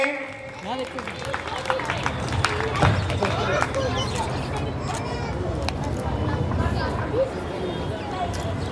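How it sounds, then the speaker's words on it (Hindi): A village crowd at a Republic Day gathering claps for Aryan, a steady spread of applause heard throughout, with someone talking over it on a public address. "एक बार जोरदार तालियां हो जाए आर्यन के लिए"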